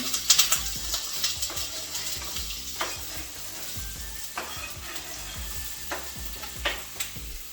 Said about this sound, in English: I'm gonna throw these potatoes in.